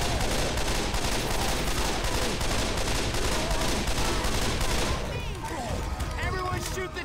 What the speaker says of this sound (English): Everyone shoot the tank!